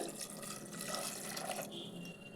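Water poured from a tap or jug into a pressure cooker holding soaked, salted peanuts, a steady splashing and trickling fill lasting a couple of seconds at close range with no talking.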